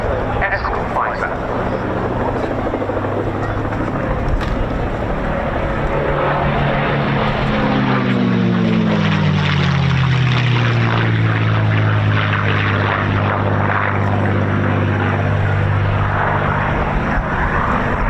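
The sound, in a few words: propeller fighter aircraft flying at RAF Cosford air show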